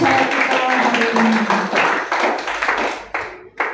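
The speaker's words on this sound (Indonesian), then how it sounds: "berikan tepuk tangan yang meriah bagi pembicara kita hari ini" A church audience claps for a speaker: dense clapping at close range that thins out and stops near the end, with voices faintly audible underneath.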